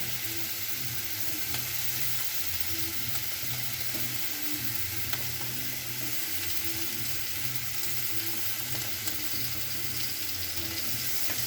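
Tomatoes and ginger paste sizzle steadily in a hot pan for soybean roast, a continuous loud frying hiss with faint stirring scrapes throughout, no voices.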